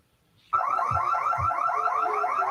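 A loud alarm blares without a break at a Belle Fries shop on Ludlow Street as three women wreck the restaurant. It starts abruptly and holds a steady, pulsing tone with low thuds beneath it.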